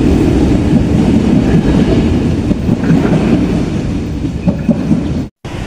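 Loud, steady rumble of a departing train at Tanjung Priok station, with dense low rolling noise and faint clattering throughout, close by, with a brief dropout near the end.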